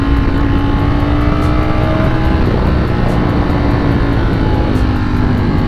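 A Ducati Streetfighter motorcycle is being ridden on hot streets, its engine a loud continuous rumble mixed with wind noise at a steady level, with no talk.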